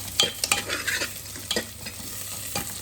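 Sliced onions fry in a pan on a gas stove while a spoon stirs them, giving a soft steady sizzle broken by a few close scraping stirs and no talk.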